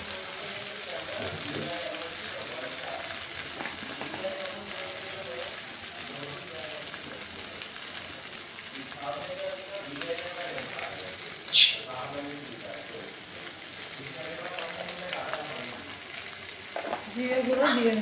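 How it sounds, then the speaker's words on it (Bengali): Ginger paste frying in a pan with a splash of water makes a continuous sizzle with stirring scrapes. Someone talks over it, and a brief sharp clink sounds near the middle. "আমি আদা বাটা দিয়ে ভালো করে একটু জল দিয়ে কষিয়ে নিয়ে নিচ্ছি।"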